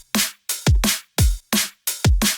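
Punchy drum and bass drum loop shaped with transient processing: snappy snares alternate with deep kicks in a fast, tight groove, loud and upfront with hard attacks and short tails, no voices.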